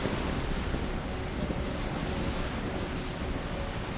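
Wind and ocean waves roar together in a steady, full wash of surf and gusting noise, continuous and moderately loud with no pauses, used as a storybook sound effect.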